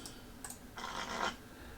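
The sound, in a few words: shuffling a deck of cards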